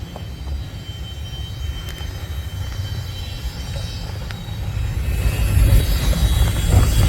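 A westbound train approaches at Durand as a low, rumbling drone that holds steady and then swells louder in the final seconds, heard alone without voices.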